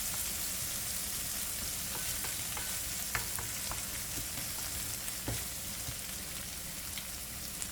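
Jerk shrimp rasta pasta ingredients sauteing in a pan, a steady close sizzle with occasional soft scrapes and ticks of stirring throughout, no voices.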